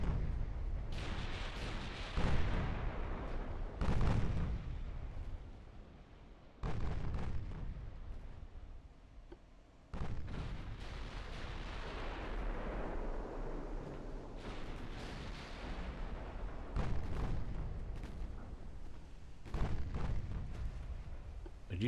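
Heavy naval gunfire from 14-inch guns in the naval strategy game Ultimate Admiral Dreadnoughts, deep booming salvos repeating every few seconds with rumbling decays, loud and alone without talk.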